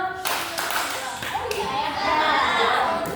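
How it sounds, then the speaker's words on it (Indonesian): Children clap sharply several times amid lively children's voices in a room. "kakak bilang selamat pagi, tepuk sekali"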